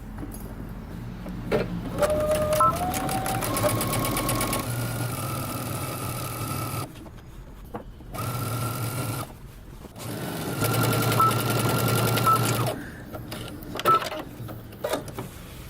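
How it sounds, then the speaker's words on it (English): Sewing machine stitching around a jeans waistband facing at a 5/8 inch seam allowance, a close steady motor whir in several runs separated by short pauses, alone without talk. "we're going to stitch all the way around using 5/8 of an inch seam allowance"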